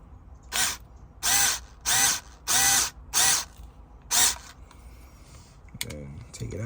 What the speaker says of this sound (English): I guess I can use the drill at this time.